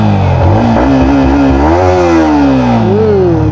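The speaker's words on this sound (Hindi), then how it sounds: "अब इसका एग्जॉस्ट नोट सुनाते हैं आपको" A Yamaha MT15 V2 motorcycle engine is revved hard up close, its loud, buzzy exhaust note rising and falling through several throttle blips and holding a high pitch before dropping and climbing once more.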